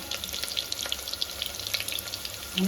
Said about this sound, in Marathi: आता आपण करी मसाले टाकू दालचिनी वेलची मिरी काळी मिरी कारपूर